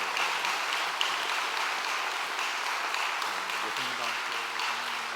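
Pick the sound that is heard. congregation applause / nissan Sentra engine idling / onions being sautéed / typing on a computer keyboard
congregation applause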